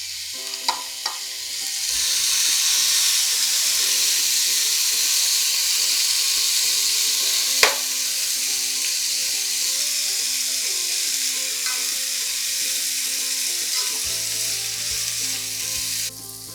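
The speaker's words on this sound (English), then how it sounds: "peas, peppers, and saute until the veggies are cooked." Peas and peppers sauté in a hot pan for vegetable quinoa fried rice, a steady loud sizzle with a few scraping stirs and clinks, a low tonal hum entering near the end.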